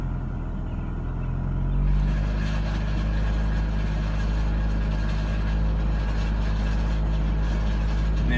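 A VW A3 with a 2.0 ABA engine held steady around 1500 RPM, giving a sustained low, droning engine note with a malfunction sound, close and continuous throughout with no talking.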